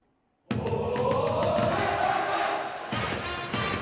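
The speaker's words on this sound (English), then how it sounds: "Seattle crowd now trying to rally around Tox" A Seattle baseball stadium crowd breaks into a loud, sustained roar of cheering that starts abruptly after near silence and holds steady with a broad wash of voices and some claps.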